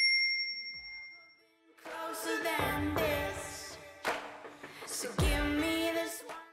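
A bright notification bell chimes in a recipe channel's subscribe reminder, repeating several times as clear, ringing dings with sparkling harmonic tails, loud against otherwise quiet surroundings.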